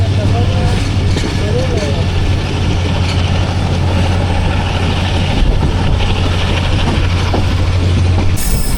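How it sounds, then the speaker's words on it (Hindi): A 3700-horsepower Chinese-built diesel locomotive, number 6314, rolling past on a Pakistani railway line, giving a loud steady low engine drone with rattling wheels and carriages close by, while someone talks over it. "6314 है जी लोकोमोटिव, 3700 हॉर्स पावर का चाइनीज़ लोकोमोटिव।"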